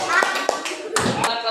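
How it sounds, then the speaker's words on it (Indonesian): Schoolchildren in a classroom clap their hands briefly together, a short burst of close, uneven claps with a few sharper individual slaps and light voices mixed in. "tepuk tangan sekali untuk kelompok 2."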